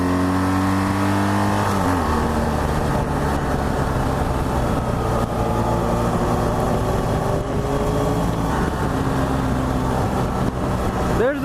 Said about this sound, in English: There's that engine braking.